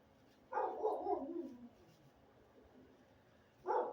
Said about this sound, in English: I'm hearing a neighbor's dog bark. I'm hearing my dogs bark.